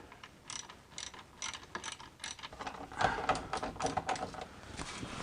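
A 1/4 inch ratchet clicks in quick bursts on bracket bolts while a BMW E46 transmission is being removed, close and fairly quiet with short pauses between strokes.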